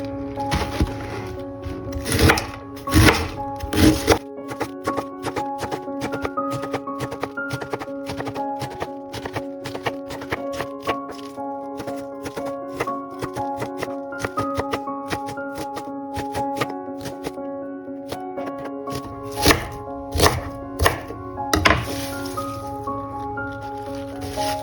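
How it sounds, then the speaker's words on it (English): Green cabbage being chopped with a knife, a steady run of quick, crisp close-up strikes with some louder bursts at the start and near the end. "I'm using cabbage in this dish, and I want the cabbage pieces to be chopped."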